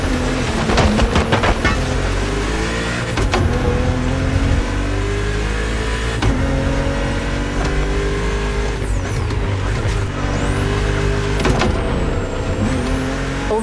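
BMW M2 and M4 cars racing on a narrow, twisty road in The Crew Motorfest, loud engines revving hard and continuously, with pitch climbing through the gears, sharp shift breaks, and other cars close by.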